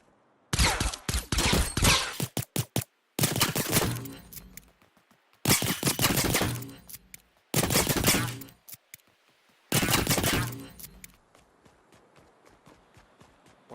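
Pistol gunfire in an Avatar video game based on Aang's journey, with shots fired at sentries on a Fire Nation volcano path; rapid volleys of sharp, loud shots come in several bursts separated by short pauses.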